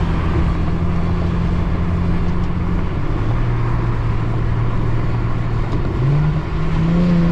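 An Infiniti G37 and a Camry XSE run a roll race, a loud, close car engine droning and climbing steadily in pitch through the gears, with a short dip before it rises again, and no voices.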